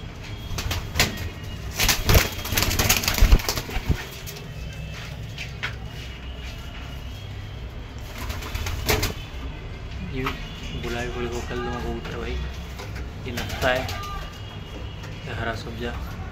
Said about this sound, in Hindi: ये देखो जीरा कबूतर भाई, ये अपने मेन जोड़ों के कबूतर हैं भाई